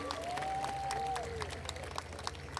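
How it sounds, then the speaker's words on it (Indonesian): At a Singaraja city anniversary celebration in Buleleng, Bali, an outdoor audience claps fairly faintly, the scattered applause mixed with a sustained tone and low background hum. "Tepuk tangan untuk semua."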